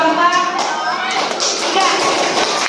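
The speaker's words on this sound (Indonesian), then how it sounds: "Sekarang kita beri tepuk tangan dulu buat kelompok" A school class applauds a student group, many small hands clapping in a dense, steady patter at close range, with children's voices mixed in throughout.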